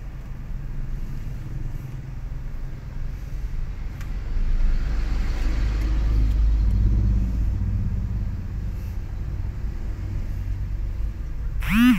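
A sand truck labours up the steep Rancagawe hill at Kalanganyar, its engine a loud, continuous low rumble that swells midway and holds, with a brief sharp squeal at the very end.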